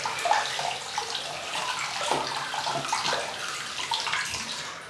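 Tap water running to wet a Razorock Hive 24mm synthetic shaving brush, a continuous close hiss of flowing water with small splashing changes as the brush is held under the stream.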